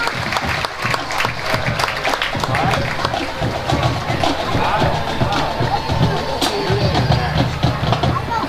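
Loud, steady applause and crowd noise at a high school marching band festival, a dense unbroken wash of clapping from a large audience that holds throughout.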